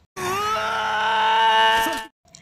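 A captive soldier in a film scene screams and groans in pain, one long drawn-out anguished cry lasting about two seconds, loud and close, followed by a short faint trailing sound.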